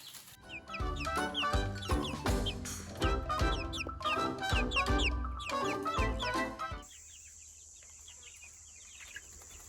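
A backyard flock of chickens clucks busily and almost without pause for about seven seconds, then the coop falls to a much quieter background with only faint sounds.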